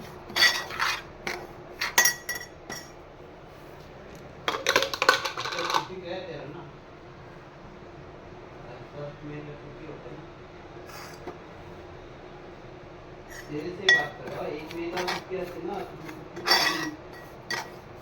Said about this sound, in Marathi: छान असा रवा आपण मस्त भाजून घेतोय। पहिला सुका भाजून घ्यायचा कोरडा